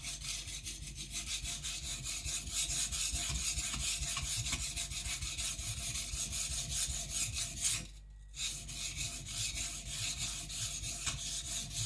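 A kiridashi knife is sharpened on a whetstone to form its secondary bevel, making steady, rhythmic scraping strokes that repeat evenly with one short pause. There is no talk.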